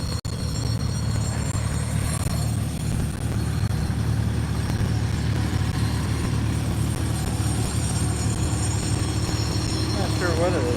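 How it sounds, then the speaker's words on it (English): An antique tractor at a pull at a West Virginia farm museum gives a steady loud engine rumble with a loose rattle running through it, heard continuously alongside talk. "There's some rattling going on in this tractor today."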